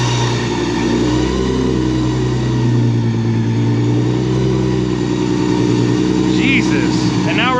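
A supercharged Nissan 350Z with a Procharger setup runs loud and close, its engine droning and revving steadily with rich low harmonics, and faint voices come through near the end.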